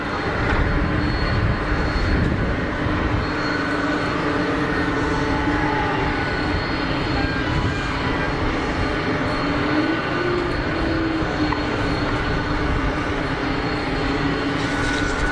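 EasyJet airliner taxiing at Geneva Airport, a loud continuous engine rumble and whine holding steady throughout with broadband airport noise, no voices.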